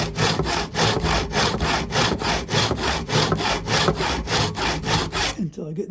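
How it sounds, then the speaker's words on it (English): A tenon saw cuts steadily into a piece of wood clamped in a vise for a halving joint, with loud, close, rhythmic back-and-forth rasping strokes repeating about twice a second before stopping at the end. "Take the tenon saw, put it in the groove."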